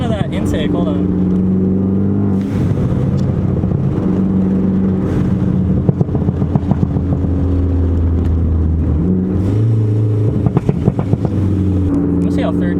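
A tuned Ford Focus ST with a stratified pops tune, its engine droning and revving in steady harmonic bands while sharp crackling exhaust pops and backfires burst through, heard from inside the car as people talk over it.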